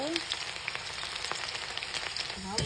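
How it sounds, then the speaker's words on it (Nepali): Onions frying in hot oil in a home kitchen pan alongside fenugreek and chili, a steady soft sizzle with crackling pops, close and continuous with no talk. "प्याज पाक्न लाग्यो।"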